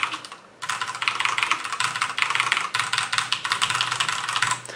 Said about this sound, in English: It's way more muffled with the red switch keyboard